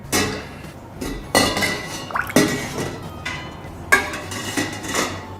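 Angel Juicer parts, metal and plastic pieces, are dropped into a citric acid solution, giving a series of sharp clanks and clinks with a faint watery drip in between, close and fairly quiet.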